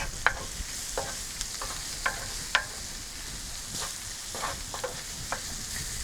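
Grilled vegetables tossed with balsamic vinegar sizzle steadily on the heat, with a soft continuous frying hiss broken by occasional sharper pops and crackles, close and moderately quiet, no talking.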